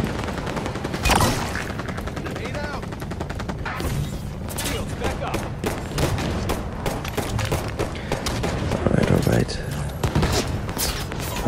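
Sustained automatic gunfire in Halo 5 Warzone, loud and close, rattling in rapid bursts with heavy thumps between, while a player talks over it.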